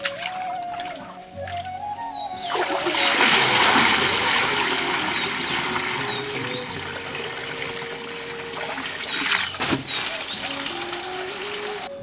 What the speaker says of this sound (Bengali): বাড়তি জলটাকে ঝাড়িয়ে নিতে হবে।